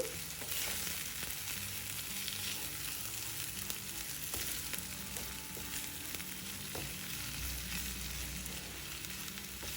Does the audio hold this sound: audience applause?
no